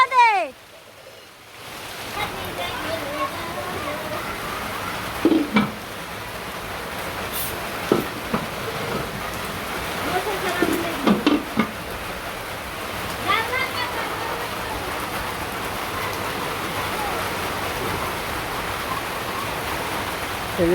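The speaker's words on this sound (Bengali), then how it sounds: "বৃষ্টি নেমে পড়ছে" Rain falling steadily outdoors, a continuous broad hiss of drops that starts after a quiet first moment and carries on evenly, with occasional louder knocks and faint voices in the background.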